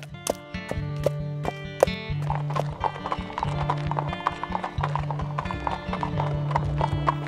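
Horse hooves clip-clop at a steady walking pace, loud and close, with sharp ringing strikes over a low background that may include faint voices.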